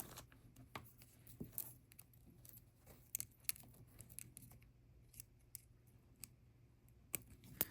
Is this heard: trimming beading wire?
yes